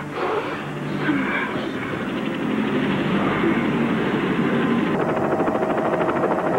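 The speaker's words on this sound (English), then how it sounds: "Wasn't it grand of Shotzi to provide us with this chopper?" Old helicopter flying, a steady loud rotor and engine drone with a throbbing pulse that grows slightly stronger partway through.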